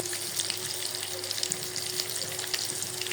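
Fish belly pieces frying in oil with chili powder, turmeric and salt, a steady soft sizzle and crackle, close and continuous with no talk.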